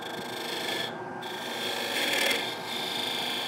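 Woodturning a tenon on a bowl blank made from skateboard material, giving a continuous steady rasping, scraping hiss of a tool against spinning hard wood on a lathe, rising slightly midway with no talk.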